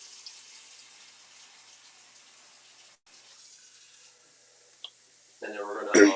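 Tap water runs into a cooking pot in a home kitchen, a steady close hiss lasting several seconds, then a brief click and a louder splashing gush at the end.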